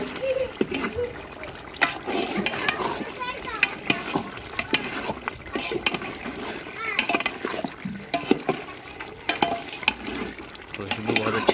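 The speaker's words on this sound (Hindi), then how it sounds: "गोश्त भुन रहा है" Meat with masala browning in a pan over a high flame, the spices starting to catch on the bottom, crackles and sizzles continuously amid stirring clatter and splashes, with a voice chattering over it.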